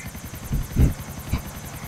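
A helicopter in GTA IV beats with rapid rhythmic rotor chops, loud and close, with a few heavier thumps swelling in the middle.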